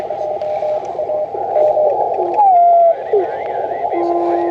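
An automatic keyer sends Morse code as a steady run of high, even beeps over a busy amateur radio band. Other signals and static sit underneath during a Field Day operation.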